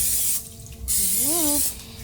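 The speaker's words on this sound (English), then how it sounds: "spray it with a little cooking spray, it won't stick" Cooking spray hisses onto a pan in a home kitchen, two short breathy bursts at close range, with a voice speaking briefly over the second burst.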